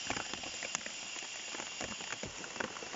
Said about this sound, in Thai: กำลังมาเลยนะครับ ฝน